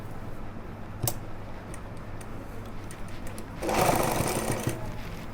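A sewing machine starts a short burst of stitching while a pocket is sewn onto pajamas. A faint ticking comes first, then a louder run of close whirring stitches about a second and a half long.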